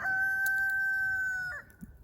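A white rooster crows once in a long, steady call close by on a farm with ducks, the note holding for about a second and a half before breaking off.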